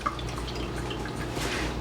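Cold water from a kitchen tap splashing and dripping onto layered lasagna noodles, a soft steady patter with small drips, close and faint, alone without talk.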